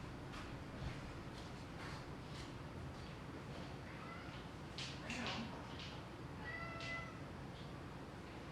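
A cat meowing indoors near a hallway, several short faint meows over a steady noisy background with a person talking.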